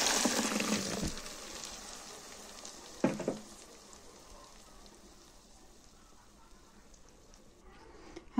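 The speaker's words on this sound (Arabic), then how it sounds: "دلوقتي بقى هننزل بيها على الثوم زي ما احنا شايفين كده بسم الله. هننزل بالصلصة او الطماطم على الثوم." Blended tomatoes poured onto frying garlic in a pan, a faint soft sizzle with a brief splash at first, settling into quiet crackling.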